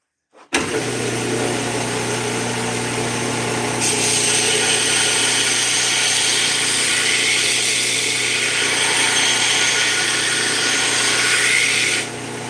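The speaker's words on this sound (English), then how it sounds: "So, let's start grinding the bevels." A belt grinder starts up and runs steadily while knife blade bevels are ground; a loud, continuous motor whine with a brighter rasping hiss from about four to twelve seconds as steel meets the belt, close, no talk.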